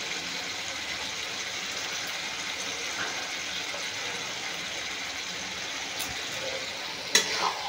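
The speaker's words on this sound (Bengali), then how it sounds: "ধনে পাতা দিয়ে আমি ভালো করে মিশিয়ে নেব।" A spoon stirs and scrapes through cabbage curry with fresh coriander leaves in a pan, over a steady low sizzle, with a sharp clank near the end.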